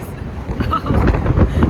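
Steady wind buffeting a microphone in Sydney, Australia, a broad rushing roar that thickens toward the end, with faint voices mixed underneath.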